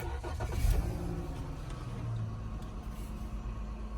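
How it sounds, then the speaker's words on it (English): The engine of a 2013 SXT with a 3.6L V6 cranks and starts, then settles into a steady idle. The start is loud and close, with a strong low rumble, and no one speaks. "Then I'm going to start up the car and see if the engine light is off."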